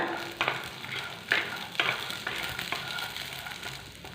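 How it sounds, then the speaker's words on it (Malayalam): Peanuts and chana dal roasting in a pan with tamarind and green chillies give a soft, steady sizzle, broken by a few sharp pops and stirring scrapes. "കടലയെന്ന് പറയുന്നത് കപ്പലണ്ടി ഒന്ന് പൊട്ടുന്ന ആ ഒച്ചയൊക്കെ കേൾക്കുന്നുണ്ട്"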